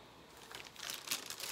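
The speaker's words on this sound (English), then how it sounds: "Open up the bag." Plastic bag holding an air purifier filter crinkled open by hand, a brief close rustle that swells to a louder crackling burst near the end, with no talk.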